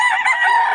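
A rooster crows at an open-air market stall in Bocaue, one sustained, loud, bright call held for nearly a second with no voices over it.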